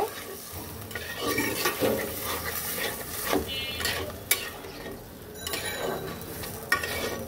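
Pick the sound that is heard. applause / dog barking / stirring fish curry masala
stirring fish curry masala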